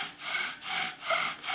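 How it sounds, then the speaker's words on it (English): A wooden branch's end grain is hollowed out by hand to seat a fire drill, producing close, rhythmic rasping strokes, about four back-and-forth scrapes in quick succession. "hollow it out a little bit so that you can get your drill into it"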